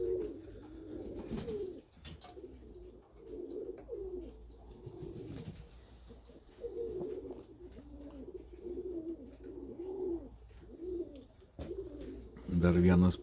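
Pigeons coo repeatedly in low, throaty bursts at moderate distance, steady layered calls through the whole stretch, with a louder flutter or knock near the end.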